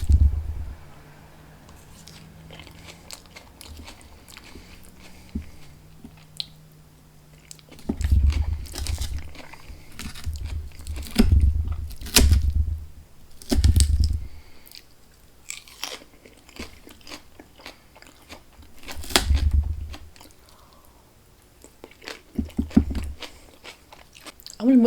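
Taco tater tot casserole being eaten at close range into a microphone at a mukbang, with wet crunchy bites and chewing in irregular bursts separated by quieter pauses, and no talking.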